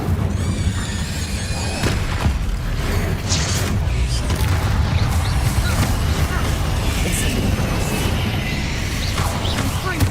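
The Incendio fire spell cast in the game Hogwarts Legacy, heard as a loud continuous roaring rumble with booming bursts and creaks that fill the whole stretch, dense and close.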